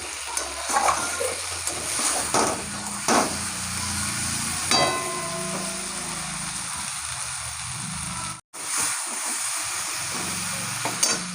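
Mutton stir-fried in oil in a pan gives a constant close sizzle broken by scraping strokes and sharp utensil knocks, with a brief drop to near silence just before the end.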